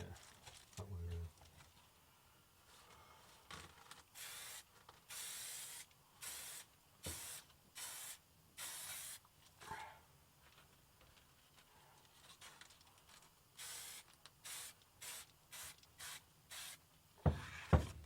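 Repeated bursts of aerosol spray hissing, short and longer puffs in an irregular rhythm, with voices and handling noise between them.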